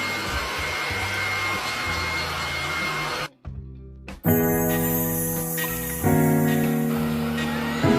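A cordless Hoover stick vacuum cleaner runs close by, its motor giving a loud steady whir with tonal hum. It cuts out briefly, then restarts and shifts pitch as the suction setting changes.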